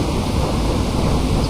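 Steady rain with a low thunderous rumble during the southwest monsoon in Boracay, a dense continuous roar filling the scene, loud and close with no voices.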